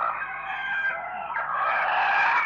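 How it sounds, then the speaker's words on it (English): Chickens crow and cluck together outdoors, a loud continuous stretch of overlapping calls with a rooster's drawn-out crow rising near the end and no talk. "The cooperative of the chickens are having a little meeting right now."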